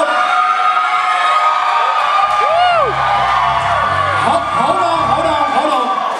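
A live rock show crowd at Brewsky's in Hattiesburg, Mississippi during a Rock Wars battle of the bands, whooping, yelling and cheering loudly near the microphone, with a few sharp individual shouts rising out of the roar.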